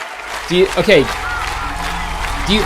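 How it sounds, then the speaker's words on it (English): Audience cheers, whoops and applause swell in short bursts around someone talking, with voices shouting over the noise. "you guys are just cheering over me"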